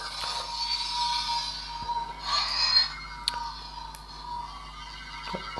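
A Dark Saber lightsaber toy's steady electronic hum with a buzzing, whirring tone, swelling briefly and carrying faint crackles, with no voices.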